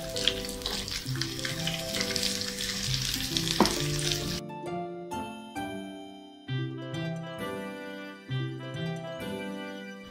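Green chillies, sliced onion and capsicum hit a hot pan for chilli chicken and fry with a loud, hissing sizzle for about four seconds. Stirring scrapes run through it, and afterwards only background music continues.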